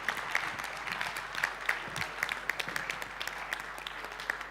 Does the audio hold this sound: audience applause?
yes